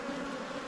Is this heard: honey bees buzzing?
yes